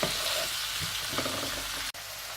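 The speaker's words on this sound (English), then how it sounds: "While the onions are getting fried, just cut these eggs like this." Onions fry in a pan for egg curry, giving a soft, steady sizzle with a brief dropout near the end.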